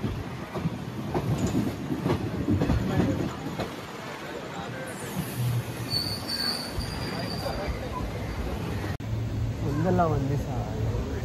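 A Talguppa passenger train runs along the rails with a steady rumble and rhythmic wheel clatter, a brief high squeal partway through and people talking faintly in the background throughout.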